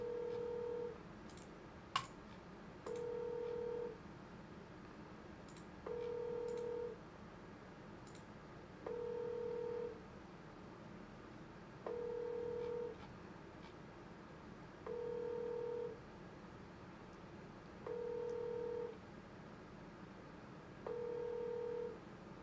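A phone call rings out on the line: after a brief dialing blip, short ringback tones repeat at an even pace about every three seconds over a low hiss, with no answer.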